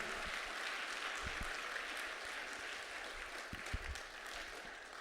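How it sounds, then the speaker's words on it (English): Audience applause for a stand-up comedian at a live show, a steady, fairly faint wash of clapping that holds evenly for several seconds. "let's give Mark Weary another round of applause."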